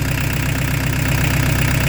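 Peugeot 205 turbo diesel engine idling, a loud, close, steady mechanical rumble with a fast, even knocking rhythm that holds constant throughout.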